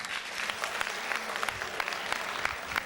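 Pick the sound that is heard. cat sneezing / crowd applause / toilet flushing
crowd applause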